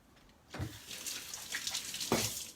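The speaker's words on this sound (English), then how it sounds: "Let me just rinse off my hand." A hand is rinsed under a kitchen tap, with running water splashing close and fairly quiet, breaking into two brief louder gushes.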